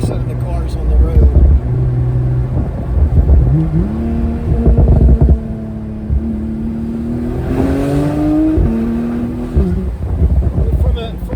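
A modified-exhaust 2015 Porsche 911 Turbo S engine, driven top down, hums and rises in pitch under light throttle, steady and fairly loud beneath someone talking over it.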